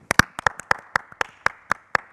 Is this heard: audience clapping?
yes